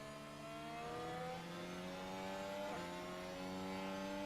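Formula 1 car engine running through the pit lane before the Spanish Grand Prix at Barcelona, a steady mid-pitched drone that holds, dips briefly and then rises again, continuous and fairly even in level.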